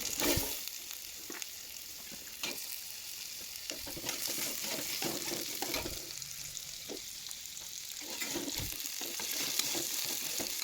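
Potato pieces fry with a loud, continuous sizzle in a pan, broken by occasional scrapes of a spatula stirring them, close and steady throughout with no voices.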